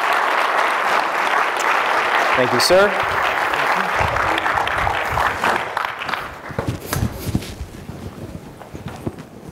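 A conference audience at a game-development talk claps to welcome a presenter on stage, sustained applause with some shuffling and footsteps that fades out as someone briefly says thanks.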